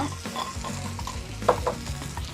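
Chickpea curry with roasted cumin powder being stirred in a sizzling pan, a steady fry under repeated scraping strokes of a spoon, with one sharper clink of metal midway.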